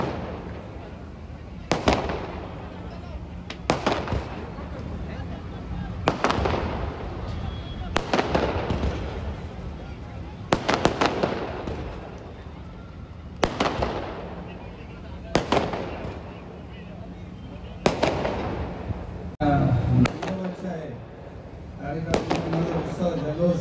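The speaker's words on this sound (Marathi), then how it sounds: "माझं नेहमीच ते स्वागत या फटाक्याने करत असतात." Firecrackers go off at the Bhim Mahotsav festival celebration: about nine loud, sharp bursts at irregular intervals of a few seconds, each trailing off into crackle, with voices talking in the background between the bangs.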